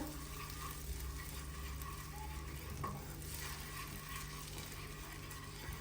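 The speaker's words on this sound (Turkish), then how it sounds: "Toz biberimizi güzelce bir karıştıralım altında." Chili powder sizzles steadily in melted butter in a pan, a spoon scraping and stirring through it, close and continuous, plus a low background hum.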